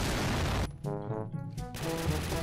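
M60 machine gun fired in long automatic bursts in a first-person shooter game, loud rapid rattling that stops briefly mid-clip and then resumes.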